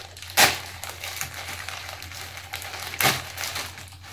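A plastic package of stationery is opened nearby, giving two sharp crinkling crunches with quieter rustling between them.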